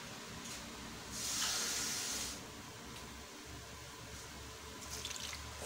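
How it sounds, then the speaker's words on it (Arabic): Half a glass of water is poured into a pot of couscous sauce, a faint splashing trickle that swells briefly, then settles into quiet drips and light rustling. "نديرو عاوتاني واحد نص كاس د الماء"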